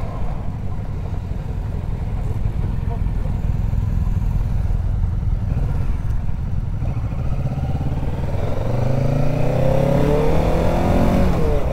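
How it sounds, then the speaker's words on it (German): Motorcycles riding past on a hilly road, a loud continuous engine roar heard from a riding bike with wind noise, rising toward the end as another machine revs and sweeps by close. "Geile Bikes."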